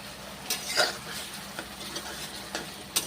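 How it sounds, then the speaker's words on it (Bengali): Spices for a kundru curry being stir-fried in a pan, a soft continuous sizzle with several light scrapes and taps of the spoon against the pan at irregular intervals, close and fairly quiet. "মশলা কষে নিচ্ছি এইভাবে কাঁচা গন্ধ নেই"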